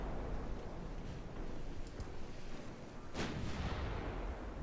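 Warship main guns fire in the naval game Ultimate Admiral Dreadnoughts, with heavy booming salvos over a constant roar of battle noise and a sharper blast near the end.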